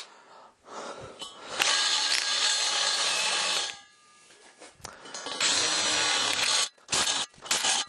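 Cordless drill driving a reamer through wood on a DIY folding woodworking press, giving two loud sustained bursts of whirring, grinding tool noise separated by a quieter pause, with short clanks at the end.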